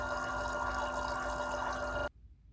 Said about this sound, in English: you can see the sodium hydroxide is being dispensed into the waste beaker